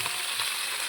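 Meat sizzles steadily in hot oil in a home kitchen pan, a dense, continuous frying hiss with no pauses and no voices.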